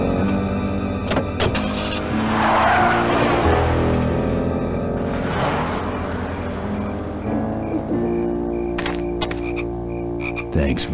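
A car in the game Full Throttle drives off with engine hum, tire squeals and mechanical whirs, loud and near, with no speech over it.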